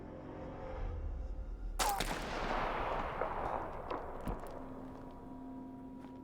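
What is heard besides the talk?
sniper gunshot in video game This War of Mine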